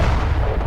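Explosives detonate inside a Hamas tunnel, a loud, dense, rumbling blast that fills the whole short moment with broadband roar.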